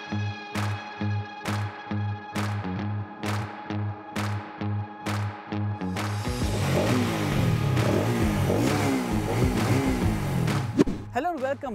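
Bajaj Pulsar NS200 or NS160 motorcycles on a race track: a run of evenly spaced short engine revs, then a louder, steadier engine roar with shifting pitch that builds and stays close for the rest.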